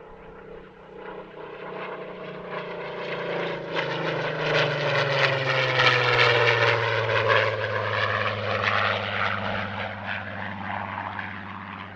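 A 1945 propeller warplane passes at an airshow, its piston engine droning loudly with a steady throb and a tone that sweeps downward as it goes by, with no voices.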